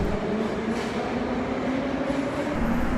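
A subway train rumbles through a station of the Moscow metro, one of the system's first stations, opened in 1935, with a steady, dense roar of wheels and carriages and no voices.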